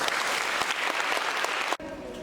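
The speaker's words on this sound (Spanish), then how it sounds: "o primeiro dos moitos aplausos desta tarde vai para ele" Graduation audience at a high school science baccalaureate ceremony applauding the school director, a dense steady burst of clapping that cuts off abruptly near the end, leaving a quiet room with faint voices.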